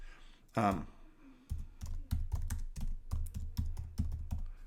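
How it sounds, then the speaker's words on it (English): A computer keyboard is typed on in a steady run of close, crisp key clicks, preceded by a brief burst of speech. "I'm just going to type in products."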